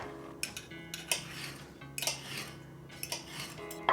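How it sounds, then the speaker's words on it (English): Knife and fork clink and scrape against a plate while slicing cooked egg into strips, a series of light, close metallic taps and scrapes spaced irregularly over a quiet background. "with a knife and fork just cut it into strips"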